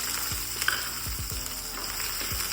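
Chopped onions fry in a pan with ginger-garlic paste for dosa made from leftover khichdi, a close, steady sizzle broken by several scraping stirs of a spoon against the pan.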